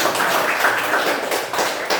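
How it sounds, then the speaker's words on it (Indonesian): Applause in a classroom, a steady wash of clapping from many hands with no speech over it. "Kita kasih tepuk tangan."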